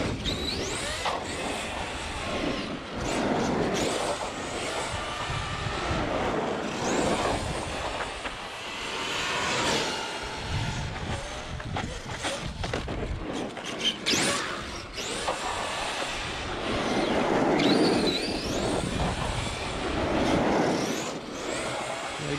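An Arrma Kraton 8S EXB RC car on Proline Masher X HP belted tires runs continuously, its motor whine rising and falling with bursts of acceleration and crunching tire noise, fairly loud and close throughout with no talking.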